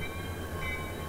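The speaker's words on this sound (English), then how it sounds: "A new crew comes aboard, and the train moves on." A freight train rolls along the railway with a steady low rumble and rattle, a continuous moderate-level drone with a faint high whine above it.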